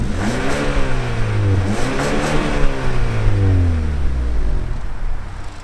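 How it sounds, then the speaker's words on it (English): A 2021 Hyundai Sonata N Line with a 2.5-liter turbo engine and dual twin-tip exhaust revs up loudly and close, rising and falling in pitch through several throttle blips before settling back. "For exhaust, dual twin-tip mufflers are equipped to best showcase dynamic personality for the N Line. And the exhaust sounds like this."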